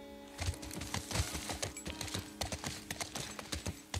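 Horse hooves clip-clop in The Last of Us video game, a steady rapid stream of hoof strikes at a trotting rhythm, fairly quiet, with no one talking.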